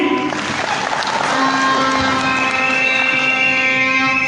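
Audience applause for party National Executive Committee members at a manifesto launch event, a dense continuous clapping wash from a large crowd with a steady hum underneath.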